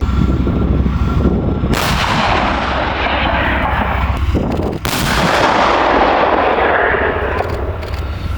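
Tank cannon rounds fired at targets during a training exercise, two heavy blasts about three seconds apart, loud and close, each followed by long rumbling echo over a steady engine drone.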